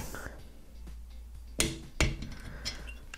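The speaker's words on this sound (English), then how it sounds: "I take the torque wrench, set up to 18 Newton meters." A torque wrench set to 18 newton meters tightens a cylinder head bolt on a Vittorazi Moster Plus paramotor engine, giving two sharp, close clicks half a second apart over a low steady hum.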